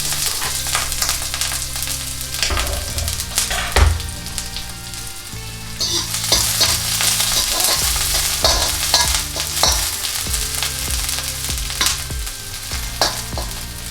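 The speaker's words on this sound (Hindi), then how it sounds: "अब हम इसमें ऑयल डाल देते हैं। ये मेरी नूडल्स की ही कढ़ाई है। हम अनियन डाल देंगे, गार्लिक डाल देंगे।" Onion and garlic fry in oil in a kadai, giving a steady loud sizzle with a spatula stirring and scraping throughout.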